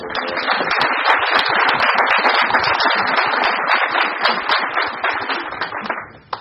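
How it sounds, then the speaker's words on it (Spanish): Dense audience applause in recognition at a Peruvian forum on state action against illicit drugs, many crisp hand claps at close range sustained for about six seconds before fading abruptly. "quisiera un aplauso de reconocimiento"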